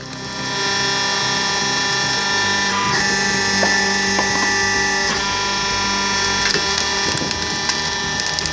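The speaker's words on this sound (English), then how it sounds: "One pull of the lever and it crushes knots, splits rounds, and delivers perfect firewood with zero struggle." Log splitter splitting firewood rounds: loud steady mechanical whine and hum throughout, with repeated woody cracks and splintering crunches as the wood gives way.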